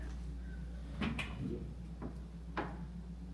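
A pantry door in a single-family home in Bozeman, Montana, is opened, producing a few soft clicks and a light latch tap over a steady low room hum, close by with no voices.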